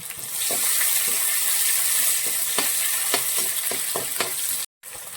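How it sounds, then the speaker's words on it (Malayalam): Fennel seeds, garlic and ginger sautéing in a pan, a loud, steady frying hiss with repeated ladle taps and scrapes, cutting briefly to silence near the end. "ഇനി ഇതിലേക്ക് നമ്മൾ ഒരു സ്പൂണ് പെരിഞ്ചീരകം ചേർത്ത് കൊടുക്കുവാണ് അതൊന്ന് മൂത്ത് വരുന്ന സമയത്ത് വെളുത്തുള്ളിയും ഇഞ്ചിയും ഒന്ന് ചേർത്ത് നന്നായിട്ട് വഴറ്റിയെടുക്കുവാണ്"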